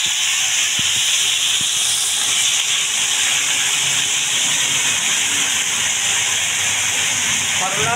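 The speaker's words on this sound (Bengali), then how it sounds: "সরষা, রাঁধুনি, তেজপাতা ফোড়ন দিচ্ছি শুক্তা করার জন্য।" Mustard seeds, radhuni and bay leaves sizzle in hot oil for shukto, making a loud, steady, close hiss that keeps up without a break and has a few faint pops in it.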